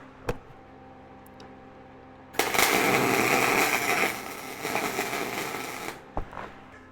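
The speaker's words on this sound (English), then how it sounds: "So I'm just going to weld to them." Welding metal spacers for a firewood bundler: a loud, steady crackling arc starts after a brief lead-in of small clicks and holds for several seconds before fading, with a few sharp ticks around it.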